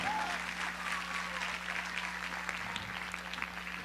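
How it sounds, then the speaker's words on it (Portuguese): A crowd claps in sustained applause, dense and steady for several seconds before thinning slightly, with a low hum underneath. "Uma salva de palmas pro Guzmão, meu irmão."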